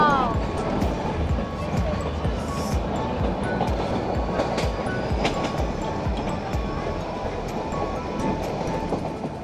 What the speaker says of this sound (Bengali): টয় ট্রেনে করে উটি থেকে কুন্নুর যাচ্ছি